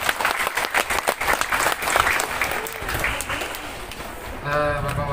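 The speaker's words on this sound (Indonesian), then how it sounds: "Tepuk tangan." Applause at a mosque inauguration and Quran graduation in Jeneponto, a loud burst of clapping that gradually thins out, with a voice speaking through a PA near the end.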